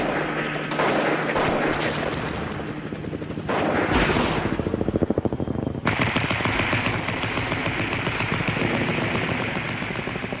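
Sustained heavy machine gun fire in a Vietnam War battle: rapid bursts and continuous rattling volleys, loud and dense, with several guns firing at once and no pauses for about ten seconds.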